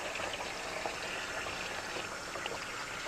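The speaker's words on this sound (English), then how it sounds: "you'll want to rinse them" Brined grape leaves are rinsed under running water, which makes a steady, even splashing hiss throughout, fairly soft and with no voices.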